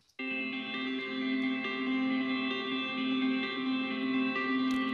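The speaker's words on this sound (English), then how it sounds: "I'm adding reverb in bias effects, and it's just kind of an arpeggiated chord." A sustained arpeggiated guitar chord picked through reverb in Bias effects, with a pitch-shifted stereo duplicate; it rings steadily, smooth and washed, with no talking.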